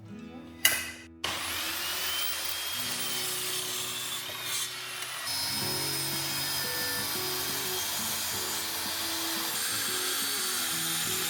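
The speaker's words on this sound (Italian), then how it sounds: "Ora ragazzi andiamo sul banco sega" A table saw whines steadily as it cuts through wood, loud and close, with a sharp burst at the start and a brief change in pitch midway.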